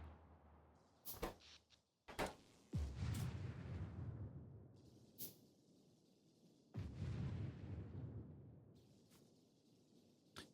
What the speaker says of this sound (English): I don't think I've noticed anything besides the explosion sounds every 5 seconds